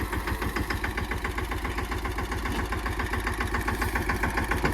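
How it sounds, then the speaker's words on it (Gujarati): A mini tractor used for mandvi (groundnut) work chugs steadily as it turns, its engine running with an even, loud, close rhythmic throb throughout with no talk. "હવે નયનભાઈ આપણે ટ્રેક્ટર વાળે છે જોઈએ વળી જાય કે નથી વળતું."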